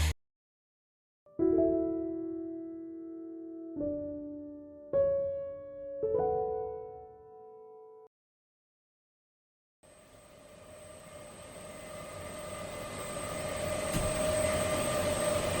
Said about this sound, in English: The sound you're hearing is that of a data center in Europe.